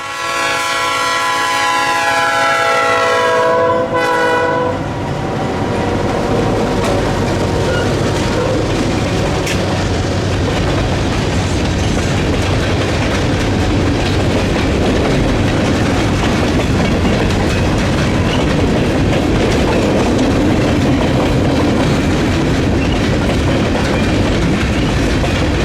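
Freight train PD-19, led by GP16 locomotives, rushes past on the main line: a loud horn blast opens, then the roar of engines and a continuous heavy rumble and clatter of wagons rolling close by.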